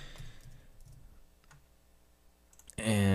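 A few soft, scattered keystrokes on a computer keyboard, faint and close, with a quiet voice murmuring at the start and a louder burst of talk breaking in at the end.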